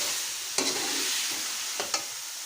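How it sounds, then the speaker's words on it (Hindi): Chicken pieces and potatoes frying in a pan for an aloo chicken curry, giving a soft steady sizzle with a few sharp stirring scrapes, close and moderately quiet, no voices. "आलू डाल के इसको अच्छी तरह भूनना है"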